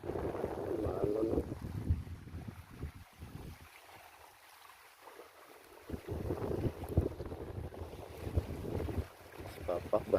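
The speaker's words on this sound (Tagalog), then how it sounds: "Lakas yung hangin at alon." Strong gusting wind buffets the microphone at sea, with waves and water churning around a small fishing boat, loud rushing bursts broken by a brief lull.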